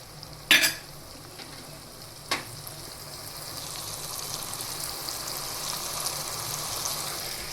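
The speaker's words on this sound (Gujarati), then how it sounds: "બધા મસાલાને આપણે સારી રીતે મિક્સ કરી લઈશું." A spice mix with added sugar is stirred in a hot pan while cooking Gujarati leftover rotli shaak. Two quick scrapes are followed by a steady, gentle sizzle close by, with no talking.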